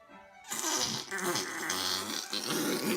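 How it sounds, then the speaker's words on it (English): A long, buzzy, rumbling fart rolls on for a few seconds after a short quiet lead-in, loud and close, with no talking, in a comic American Civil War scene. "who farted?"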